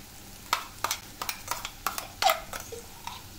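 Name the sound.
ground masala paste added to the pan for Veg Kolhapuri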